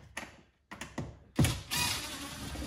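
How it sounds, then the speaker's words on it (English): A Phillips head screwdriver backing a screw out of the interior trim of a Lexus LX 470, giving quiet ratcheting clicks and creaky turning bursts broken by short pauses, then a rougher scraping stretch, close and with no speech. "grab our Phillips head screwdriver"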